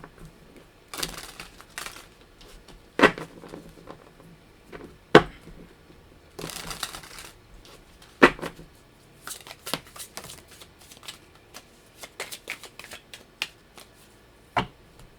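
A tarot deck being shuffled by hand, with papery riffles and sharp card slaps recurring irregularly at close range, some louder snaps standing out over soft rustling throughout.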